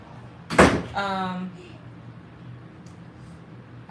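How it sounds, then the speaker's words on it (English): A door is shut with a single sharp knock-like thud, followed by a brief creaky scrape, in an indoor room with faint background noise. "Close the door."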